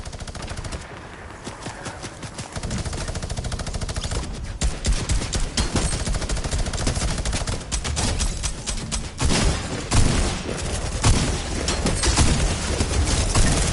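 A minigun in Fortnite fires long, rapid, unbroken streams of shots, loud and close, with a brief pause early and then near-continuous spray building in intensity, no talking.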